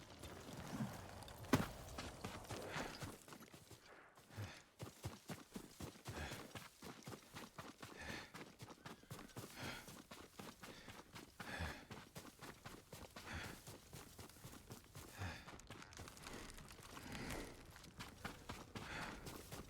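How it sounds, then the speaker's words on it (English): A horse's hooves clip-clop in Ghost of Tsushima, a fairly quiet, continuous stream of close hoof falls at a walking pace with some brief pauses, no voices. "Yuriko's horse"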